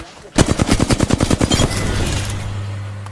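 Rapid burst of gunfire in the Apex Legends shooter, about a dozen evenly spaced loud shots over a second, then cutting off into a lingering low hum.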